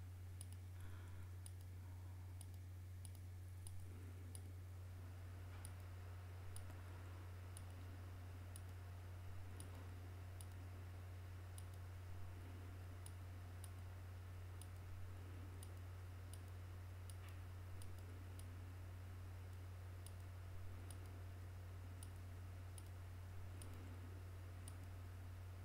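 Faint, regular mouse clicks while tracing a selection around a figure with the Free Select tool in GIMP, a steady series of small ticks over a constant low electrical hum.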